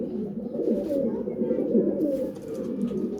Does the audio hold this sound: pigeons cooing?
yes